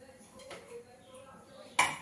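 A metal kadai wok set down on a kitchen stove, a single sharp clank near the end of a quiet stretch, close and bright, with faint kitchen noise before it.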